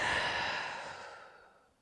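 A deep breath during a Pilates core workout: one long airy exhale, close to the mic, that gradually fades out.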